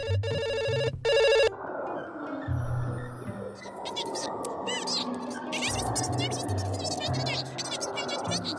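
A phone rings in two loud, sharp electronic bursts at the start, followed by frantic whining and yelping from dogs and someone talking over the commotion.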